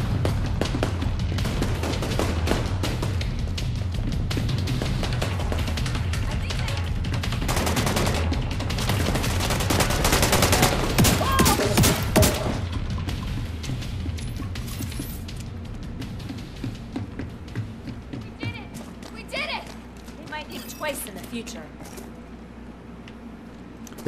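Rapid gunfire from a quick-firing eight-round gun in the shooter game The Division 2, shots clustered in dense bursts amid explosive booms and game noise through most of the clip, thinning toward the end.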